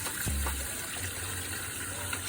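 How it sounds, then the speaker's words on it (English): Water runs from a short mini hose hooked to a spigot for a homemade dog bath, a soft steady flow under faint background hum with a few low thumps near the start. "turn it on, and we got water."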